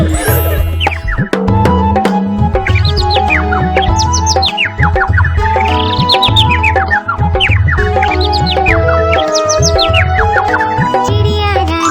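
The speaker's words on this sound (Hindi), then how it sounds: "चू चू करके हमें जगाती। चिड़िया रानी" Cartoonish sparrow-like chirps swoop up and down in repeated phrases over a bright children's song with a steady beat, loud and upfront for about twelve seconds.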